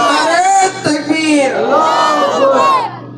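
A large crowd roars a religious takbir slogan in unison at a gathering, a loud, dense wall of raised voices swelling and sustained for a few seconds in response to a call.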